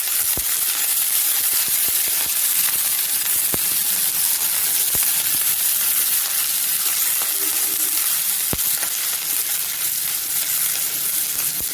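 Small onions, curry leaves and garlic cloves sizzle in hot oil in a pan, a dense, steady crackling hiss with scattered sharp pops throughout.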